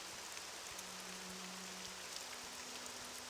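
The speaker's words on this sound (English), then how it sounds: "the Apel's rain replacer makes the rain a lot more dense and like it's raining really hard" Rain falls in the video game The Elder Scrolls III: Morrowind as a soft, steady, even hiss with no talking, under a faint low hum.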